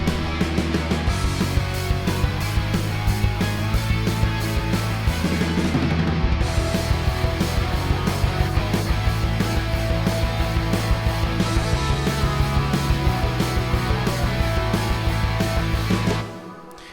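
A dense, loud pop punk band mix plays continuously with driving drums, distorted guitars and bass, steady rhythm throughout, ending abruptly near the close.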